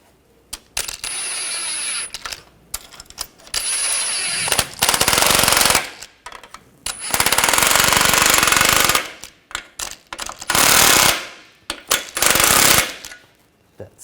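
Power tool, likely an impact wrench, tightening exhaust sleeve clamp nuts on a 2004-2009 Audi A4 Quattro 2.0L four-cylinder, firing in loud, close, rapid hammering bursts of several seconds each, broken by short quiet gaps and small metallic clinks.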